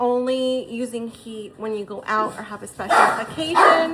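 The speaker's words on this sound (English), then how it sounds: "Sorry for the dogs." Dogs bark in a few short bursts somewhere in the room, partly masked by a person talking steadily over them, with the louder barks clustered near the end.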